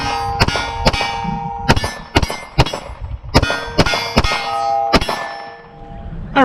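A pistol with a double-port slide firing shot after shot at a small steel silhouette target, each bright metallic clang ringing out loud and sustained, about a dozen hits in irregular succession.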